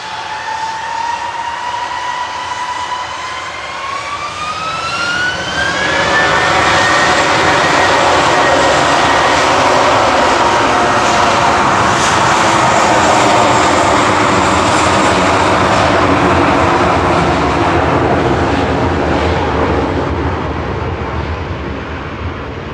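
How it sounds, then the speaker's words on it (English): A Turkish Airlines Airbus A321 Classic departs Manchester Airport for Istanbul, its jet engines rising from a whine into a loud, sustained roar that swells, holds, and slowly fades at the end. "Turkish A321 Classic next, heading back to Istanbul."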